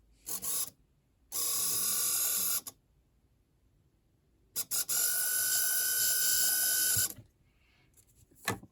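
A small HO scale Varney 0-4-0 locomotive motor whirs on a test controller in several loud bursts of high mechanical buzzing, with silent gaps between runs and a few short clicks at the end.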